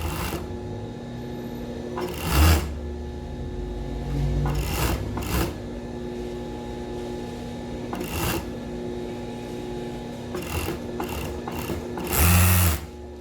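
An overlock serger stitches and gathers thick lycra fabric in quick bursts, its motor whirring in several short runs separated by pauses, close and moderately loud.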